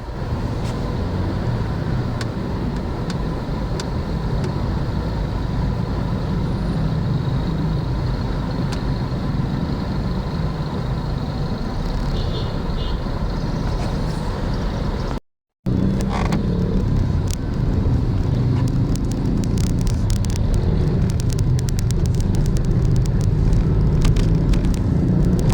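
Steady road traffic rumbles past on a busy street in the Philippines, a dense continuous drone of engines with occasional mechanical creaks and a brief dropout midway, with no voices.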